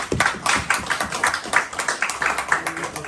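Audience members at a Rotary Foundation talk clap in a steady, rhythmic pattern of sharp, evenly spaced claps that stay moderately loud and close throughout.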